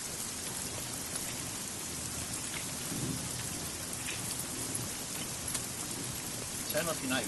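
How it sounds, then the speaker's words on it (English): Steady rain falls in an animated helicopter search-and-rescue scene, with a low rumble of thunder underneath and occasional voice-like sounds near the end. "This is the best rain ever made by man."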